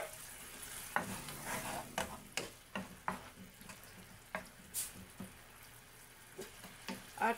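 Calamansi hits a hot frying pan during fish steak cooking, giving a steady sizzle broken by repeated sharp scraping stirs, close up with no talking.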